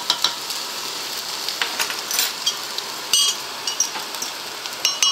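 Tomato puree sizzles in a hot pan while beef taco filling cooks, with a steady frying hiss and a few small clinks of a utensil against the pan.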